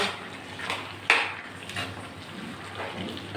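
Water poured into a pan of vegetarian curry cooked with bori lentil dumplings, a soft, close hiss and rush with a sharp utensil clack partway through.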